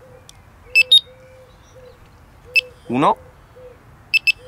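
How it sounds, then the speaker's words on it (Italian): A Delkim TXI-D carp-fishing bite alarm being set to level 3 gives short, sharp electronic beeps in small clusters. A brief warbling tone sounds midway, and a faint low hum and background noise run underneath. "due beep per il livello 2 e tre beep per il livello 3"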